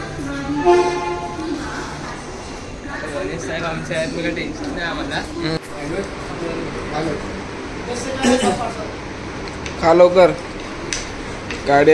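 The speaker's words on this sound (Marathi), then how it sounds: "तर म्हणजे ट्रेन आली आता निघायचं आहे" A train pulls into a railway station among a crowd. Rumbling wagons, squealing wheels and horn blasts rise and fall over near-constant nearby chatter.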